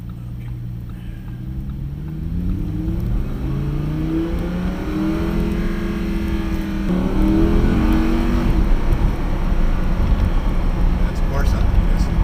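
A car fitted with a Corsa exhaust and a manual gearbox accelerates, its engine note climbing and rising in pitch through gears as a steady, close drone with voices faintly underneath.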